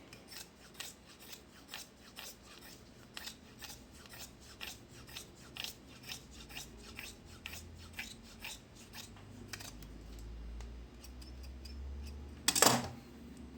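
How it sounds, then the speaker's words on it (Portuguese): Scissors snipping away excess material while finishing a lunchbox panel craft piece, a quiet, regular run of short close cuts, ending with a louder clack near the end. "Vou cortar o excesso de material aqui."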